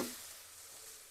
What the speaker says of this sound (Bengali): আলুটা কষানো হয়ে গেছে। ভালোভাবে কষানো হয়ে গেছে।